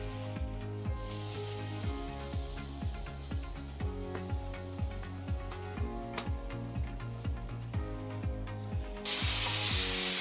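A hamburger patty fries on maximum high heat in a pan, a steady hissing sizzle running throughout under rhythmic background music, with the sizzle swelling louder near the end.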